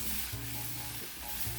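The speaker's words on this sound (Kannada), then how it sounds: "3 ನಿಮಿಷ ಸಣ್ಣ ಉರಿಯಲ್ಲಿ ಹುರಿಯಬೇಕು" Unripe green tomato pieces fry over a low flame for chutney, giving a steady soft sizzle throughout, close and continuous, with faint low hum beneath and no talking.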